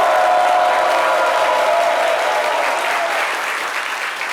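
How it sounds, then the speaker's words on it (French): Sustained audience applause at a televised midday show in a studio, dense and even, loud at first and tapering slightly toward the end, with no one talking over it. "Ils s'applaudissent beaucoup."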